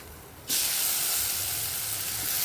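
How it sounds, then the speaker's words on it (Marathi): After a short quiet moment, a loud steady hiss of steam bursts from ridge gourd cooking in a pan and continues without pause, close by. "एक एक वाफ काढून घेणार आहोत आपण दोडक्याची"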